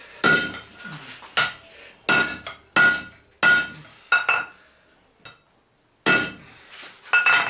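Hot steel being hammered on an anvil while forging blacksmith tongs: a steady series of loud, ringing metallic strikes, roughly one per second, each with a bright clink and short decay, with a brief pause near the end.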